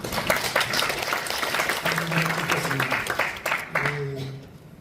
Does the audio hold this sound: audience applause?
yes